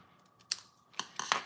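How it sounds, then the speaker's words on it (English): Small scissors snip paper corner to corner in a planner-style notebook, giving several short, crisp cuts: one near 0.5 s, then a quick cluster of three close, distinct snips toward the end, with quiet gaps between. "I'm going to come in with my little scissors, and I'm going to cut corner to corner"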